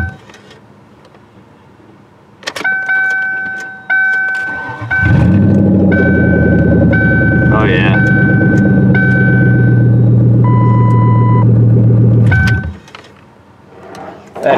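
A junked Lincoln Continental's engine cranks over several times and catches, settling into a loud, steady running rumble for several seconds before shutting off, with a faint chime tone sounding throughout.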